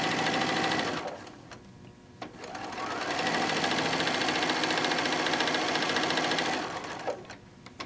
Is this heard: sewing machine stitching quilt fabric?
yes